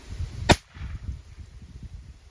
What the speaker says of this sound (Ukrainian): і робимо постріл